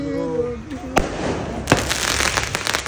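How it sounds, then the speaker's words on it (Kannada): Firecrackers set off to welcome arriving friends on a Coorg trip, two sharp bangs about a second apart over crackling and steady background noise, with a voice briefly at the start. "ನಾವು ಬಂದ್ವಿ ಅಂತ ಪಟಾಕಿ ಎಲ್ಲ ಹೊಡಿತಾರೆ."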